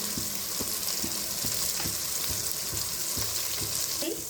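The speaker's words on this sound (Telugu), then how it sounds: "డీప్ ఫ్రై అయ్యాక మనం చింతపండు గుజ్జు డైరెక్ట్గా ఈ విధంగా దాంట్లో పోసేయాలండి" Tamarind pulp poured straight into a pan of deep-fried murrel fish for a Telugu fish curry; a steady, close sizzle runs throughout, broken by regular soft knocks and scrapes of stirring, with no voices.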